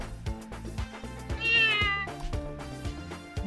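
A cat meows in a video game, with a few short meows and one longer, strained cry near the middle, heard close and fairly quiet over a steady rhythmic music loop.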